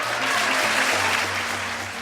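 Applause from a large chamber audience at a Bill Clinton State of the Union address, a dense, steady wash of clapping at moderate loudness with a faint low murmur underneath.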